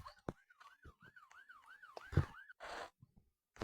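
Police car siren in the Roblox Brookhaven video game wails in repeated rising-falling sweeps for about two seconds, mixed with game clicks and thumps, then cut by bursts of noise.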